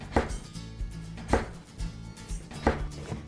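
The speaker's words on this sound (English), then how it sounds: "We're gonna start by cutting our butternut squash into chunks." A knife chops through butternut squash into chunks on a cutting board, three firm evenly spaced cuts with softer knocks between, close and clear.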